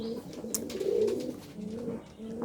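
Pigeons coo close by in a soft, rounded rhythm of repeated low calls, with no voices over them.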